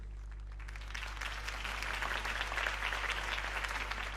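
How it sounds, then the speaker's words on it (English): Applause from a crowd follows a campaign speech in a Batman video game, a sustained, dense clapping that swells after a quiet start and stays steady and full without any voices over it. "If only Mr. Wayne, my campaign's largest backer, could have heard that applause"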